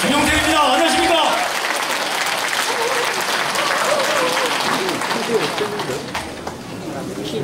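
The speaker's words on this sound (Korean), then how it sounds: "박수로 환영해 주십시오" Sustained applause from an audience welcoming a lawmaker onto the stage at a Korean political talk event, dense and steady from start to finish, with a brief voice near the beginning.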